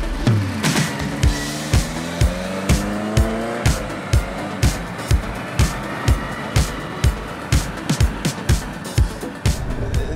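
A custom-built sports car on air suspension idles and revs with a rumbling engine note. Sharp rhythmic ticks repeat about twice a second throughout, and the sound is loud and close.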